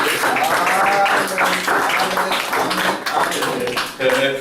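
A church congregation bursts into clapping and cheering acclamation, with voices calling out over rhythmic handclaps that rise and fall in waves.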